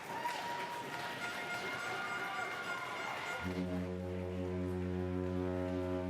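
At an ice hockey game, a crowd cheers and claps after a goal, then a loud, sustained foghorn blares over the noise for the rest of the moment.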